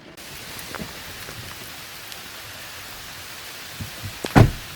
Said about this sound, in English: It is downpouring outside.